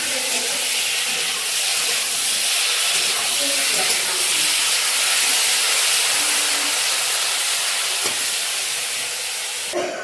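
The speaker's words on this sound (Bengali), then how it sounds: "চিংড়ি মাছ অল্প করে ভাজলে চিংড়ি মাছ ভাজা হয়ে যায়।" Prawns frying in hot oil give off a steady, loud, hissing sizzle that fills the whole stretch without letup, with a faint low rumble underneath.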